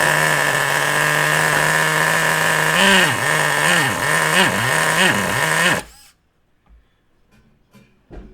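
A nitro-fuelled RC car engine, running lean with too much air and not enough fuel, buzzes loudly up close, revs in several wavering bursts, then suddenly cuts out, leaving near silence with a few faint clicks.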